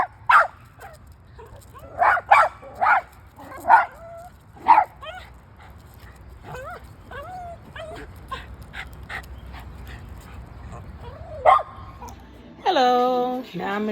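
A dog barks, yips and whimpers in repeated sharp bursts, loud and close, with quieter gaps between barks and a longer whining cry near the end.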